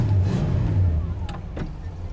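A 1966 Pontiac GTO's engine running at a low, steady idle, a deep rumble held close throughout, joined near the end by a couple of brief clicks or knocks.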